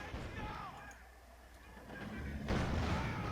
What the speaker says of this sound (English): another Katyusha barrage comes on the center part of this map and is murderously close